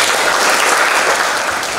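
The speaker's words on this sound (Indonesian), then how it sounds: "beri tepuk tangan." A classroom audience applauds with a short burst of dense, loud clapping that holds steady and then tapers slightly.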